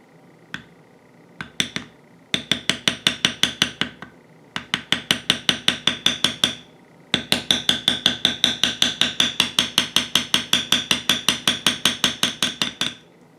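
Mallet striking a metal bevel tool on leather during rose carving, rapid rhythmic runs of sharp taps in bursts with short pauses between, close and crisp, no talking.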